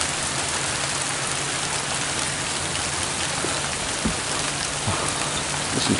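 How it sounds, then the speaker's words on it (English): Steady rain falls on a wintry night outdoors near roses, a dense even hiss of drops on surfaces with a few louder nearby splashes, and no voices. "Listen to the rain."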